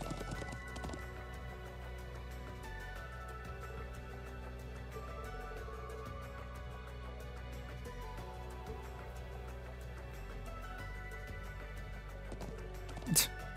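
Clip-clop of a galloping horse in the video game Trails of Cold Steel II, a steady drumming of hooves over a game music bed, holding at an even level throughout with a brief louder hit near the end.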